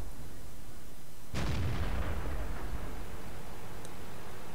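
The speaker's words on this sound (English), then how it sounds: "Just love that gun. Just point and shoot." Single heavy tank gun blast in the World of Tanks video game, a sudden loud boom followed by a long rumbling decay, with a faint click later.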